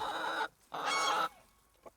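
A wet hen, likely outdoors in the rain, gives two strong clucking calls separated by a short pause, then a faint brief sound near the end.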